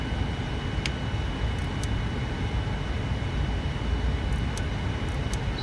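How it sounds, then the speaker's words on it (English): Air conditioning packs on an all-electric Boeing 787-10 come on inside the cockpit with a steady, broad airflow roar, joined by a few faint high clicks and tones. "So you can hear the packs coming on."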